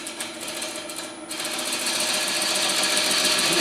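A gouge cuts a large wooden bowl on a STRATOS XL wood lathe, giving a rapid, buzzing, rhythmic chatter that grows louder and steadier partway through, close and with no talk.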